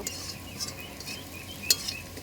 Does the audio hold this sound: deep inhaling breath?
no